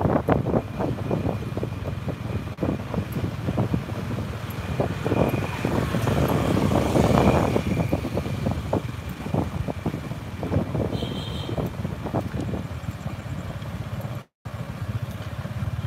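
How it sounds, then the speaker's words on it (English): Tuk-tuk ride through the streets of Cambodia, with a steady engine drone and rushing wind buffeting the microphone throughout, plus scattered clatter and traffic noise, loud and close. "Live from Cambodia, we're driving around in a tuk-tuk, checking out the things."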